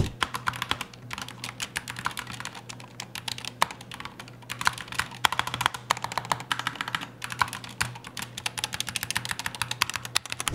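Keystrokes on a SteelSeries Apex Pro TKL Wireless keyboard with OmniPoint 2.0 switches patter in a quick, steady stream of close, crisp clicks with no voices.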